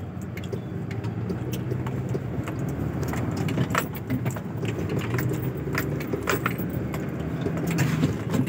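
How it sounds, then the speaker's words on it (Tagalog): Heavy road traffic in Dasmariñas: a dense, steady rumble of idling and slow-moving vehicles close by, with scattered metallic clinks and rattles over the continuous engine drone, no talking. "Hindi na kinaya yung traffic."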